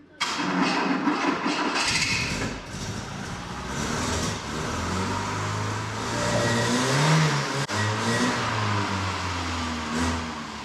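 A Mk3 car engine runs on four cylinders as it starts and idles, a steady rumbling drone with a few rises in revs. It sounds close and fairly loud, with no talk.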